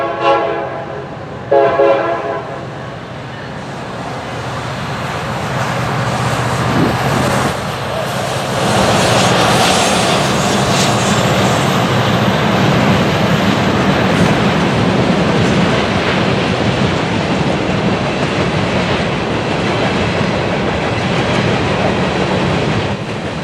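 A long Norfolk Southern freight train led by EMD locomotives rumbles past at close range in Berea, steady and loud, with a brief horn-like blast near the start and continuous rail and wheel noise.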